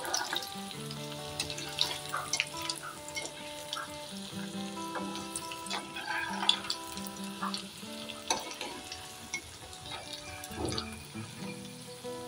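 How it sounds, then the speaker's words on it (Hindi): Dough balls frying slowly in hot oil over a medium flame, a steady busy sizzle and crackle that runs throughout, with faint stirring and clinks at moderate loudness and no voices. "मैं इन बॉल्स को इनमें डाल दे रही हूँ। इनको हमें धीरे धीरे पकाना है"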